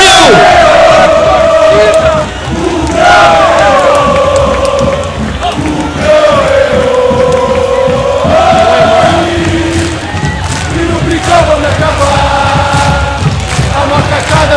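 Guarani F.C. football supporters chant together in a big stadium crowd, a loud sustained sung melody with rhythmic repeated phrases rising and falling, steady and near throughout.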